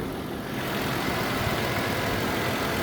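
A 1994 Toyota Land Cruiser FZJ80 engine idles in its open engine bay, a steady broadband rumble close to the microphone that swells slightly after the first half second and holds even, with no talking.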